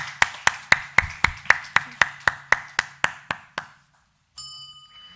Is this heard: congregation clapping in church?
yes